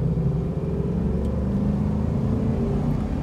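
A 2008 Hummer H2 engine pulling through a quick acceleration, a steady, loud low-pitched drone and rumble heard from inside the cabin, with road and tire noise underneath.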